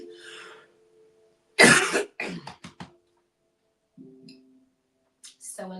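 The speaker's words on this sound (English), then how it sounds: "So annoying when you just do that one cough" A woman leading a balance exercise session coughs: a short faint throat noise, then a loud burst of several rapid coughs, and a final cough near the end, with quiet moments between.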